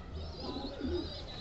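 A racer pigeon gives a soft, low cooing call, close by and quiet, a short burst of murmuring coos over faint background hiss with no voices.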